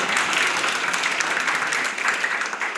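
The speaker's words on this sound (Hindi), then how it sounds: "एक बार जोरदार तालियों से हमारे आदरणीय सर की इस अनुपम कृति के लिए धन्यवाद करें।" An audience at a university poetry event breaks into loud, sustained applause, dense clapping holding steady throughout with no speech over it.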